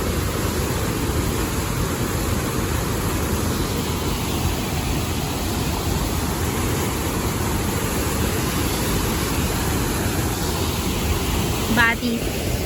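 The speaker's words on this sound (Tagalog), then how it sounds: "Whoa, look at that waterfall." Steady broadband roar of a busy waterfall, constant and fairly loud with no pauses, with a brief high chirp near the end.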